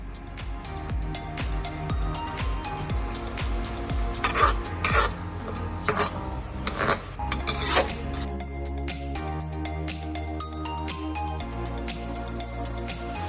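Hokkien mee Phuket with an egg on top heats in a pan, a spatula scraping and stirring the noodles in irregular rasping strokes over a soft sizzle, close and alone.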